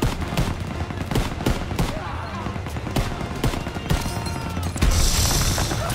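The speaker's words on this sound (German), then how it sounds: "Oh, MG 42." An MG 42 machine gun fires in a video game, with dense, rapid bursts of gunfire mixed with other battle noise and talk heard under it.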